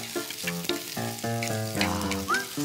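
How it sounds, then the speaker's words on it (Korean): Bell pepper lightly stir-fried in oil in a pan for a chicken dry curry, a steady sizzle with clinks and scrapes of stirring utensils, close by, alongside intermittent tonal sounds. "피만은 아주 살짝 볶아요."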